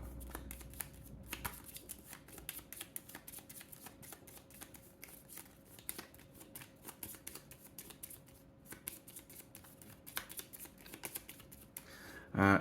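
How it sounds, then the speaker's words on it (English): Cards are shuffled during play of the Big Thunder Mountain Railroad board game, a faint ongoing series of soft riffling and flicking sounds at close range with no talking. "And we go shuffle, shuffle, shuffle, shuffle"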